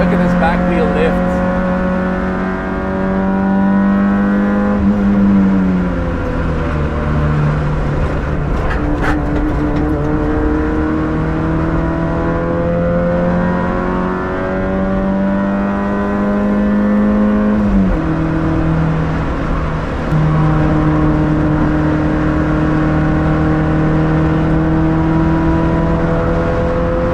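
A Nissan Micra K11 screams around the Nürburgring, its engine revving hard and climbing through gears with shifts near five and eighteen seconds, loud and close throughout, with a voice speaking over it.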